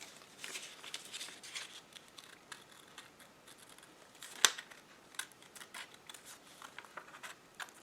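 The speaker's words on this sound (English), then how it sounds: "And then nice and slow, and we can cut around the other eye." Scissors cut eye holes in a teddy-bear paper mask, making faint, close, intermittent snips and crinkles of paper with one sharper click midway.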